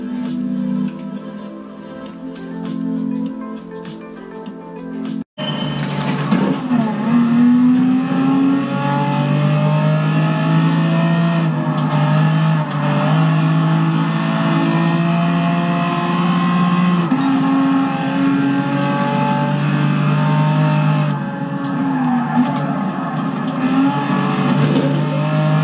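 BMW race car engines in a Gran Turismo race on PS4, a loud sustained engine drone that rises and shifts through gear changes after a quieter start, with brief tire noise and no talk.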